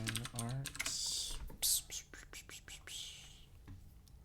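Typing on a computer keyboard while coding in Python, a quick run of close, light key clicks heard alongside soft whispered speech.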